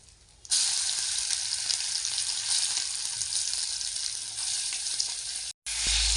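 Poppy seed paste, cashews and raisins hit hot oil in a pan for a paneer dish, setting off a loud, steady sizzle that starts abruptly after a short quiet moment and holds with only a brief break near the end.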